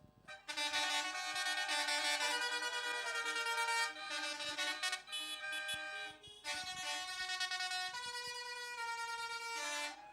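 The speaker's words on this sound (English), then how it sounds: "Let's have a little bit from the tractors." Loud tractor horns blare together in long sustained blasts at a farmers' protest, broken by short pauses.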